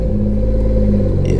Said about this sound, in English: this is what it sounds like on a cold start now